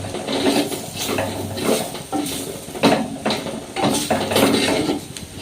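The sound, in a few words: stirring fennel powder and garam masala in a pan for prawn roast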